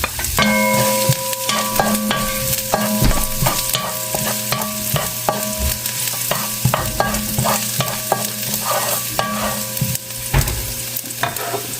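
Ginger and garlic sauté in a hot pan for a pork liver steak, a loud continuous sizzle broken by repeated scraping and clinking of a spatula stirring, with a tonal backing running underneath.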